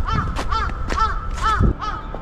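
A large crow caws on a snowy street in Sapporo, Japan, giving about five harsh, loud calls in a row from close by.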